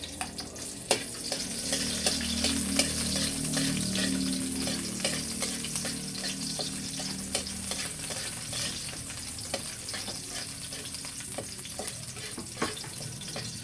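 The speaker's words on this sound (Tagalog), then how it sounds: "Akin na po ilalagay itong bawang at sibuyas. Akin na po igigisa." Garlic and onion sautéing in a pan for squid in coconut milk, a steady sizzling hiss with scraping stirs and occasional utensil clinks, close and fairly loud throughout with no talking.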